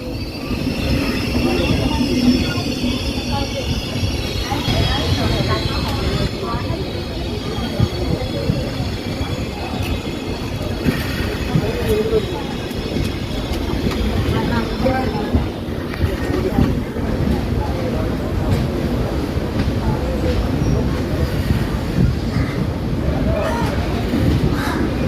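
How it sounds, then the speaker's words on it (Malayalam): The Parasuram Express rumbles through Kozhikode railway station in a steady, loud roar of rolling wagons with occasional wheel squeal, crows cawing and voices murmuring in the background. "ഇതാണ് കോഴിക്കോട് റെയിൽവേ സ്റ്റേഷൻ."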